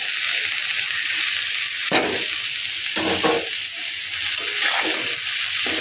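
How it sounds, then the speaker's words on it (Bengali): Banana stem and fried red lentils stirred in a hot pan, with a steady sizzle and frying hiss throughout and several louder scraping strokes of the spoon against the pan, close and alone. "ভালোভাবে ডালের সাথে মিশিয়ে নেব"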